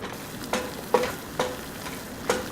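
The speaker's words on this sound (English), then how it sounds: "I'm just going to periodically stir them as they caramelize" Onions sizzle steadily in a hot pan while caramelizing, broken by a few sharp scraping stirs at uneven intervals, close and fairly loud, with no voices.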